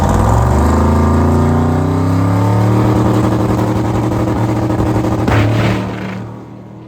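A fast street car launches down a drag strip, its engine roaring loudly and climbing steadily in pitch through the gears before cutting off abruptly near the end.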